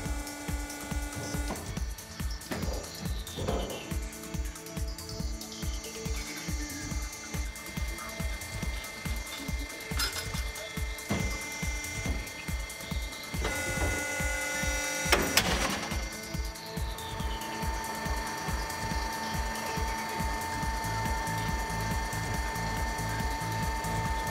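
A TWIN BUSCH TW X-80 T truck tyre changer presses the tyre bead on the inner side, producing a steady mechanical hum with regular clicking and ratcheting pulses, close and continuous, with no talk.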